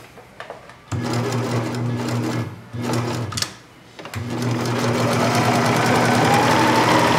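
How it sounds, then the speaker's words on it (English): A sewing machine back stitches handwoven fabric for a tote bag, its loud rapid mechanical hum running in three stretches separated by short stops, the last run long and steady. "I'm going to back stitch, really make sure that that edge gets really sewn."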